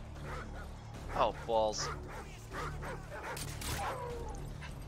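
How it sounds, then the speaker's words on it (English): A dog in Call of Duty: Modern Warfare 2 whimpers and yelps after being shot, a few short high cries amid game noise and faint background sounds, with a person briefly talking over it. "Those guys totally just shot the dog in order to kill me."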